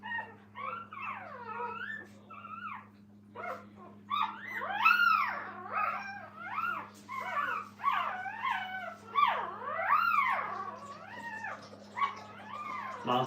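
Several puppies in a training kennel whimper, yelp and howl in overlapping, wavering cries, close and insistent, over a steady low electrical hum.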